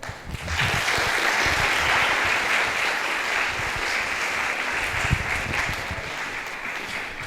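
University students give a guest speaker, a priest, a long, loud round of applause, dense clapping that rises quickly and stays strong and even throughout.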